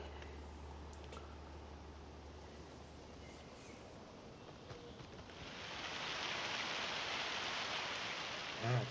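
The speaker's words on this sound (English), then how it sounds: "Wow, first time raining." Rain in the farming video game Farming Simulator 25, a soft, faint steady patter that swells into a fuller, wider hiss of rainfall partway through, with a low hum early on and a brief thump near the end.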